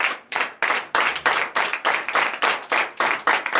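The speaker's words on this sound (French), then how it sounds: "vous allez vous lever sur vos pieds et vous allez donner de vives acclamations à notre Seigneur" A church congregation at morning prayer claps in unison, a loud, steady rhythm of about three claps per second, close and crisp with no voices over it.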